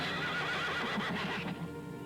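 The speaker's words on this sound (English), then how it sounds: "Watch out, horse." A horse neighs in the 1959 film The Killer Shrews, a quavering whinny that carries through about two seconds over a steady background, ending in a brief sharp sound, with no voices.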